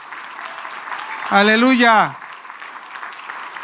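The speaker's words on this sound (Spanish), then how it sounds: "Dele un aplauso fuerte a Dios," A church congregation applauds steadily during a worship service, the clapping running under the whole stretch while a single voice shouts out loudly over it for a moment in the middle.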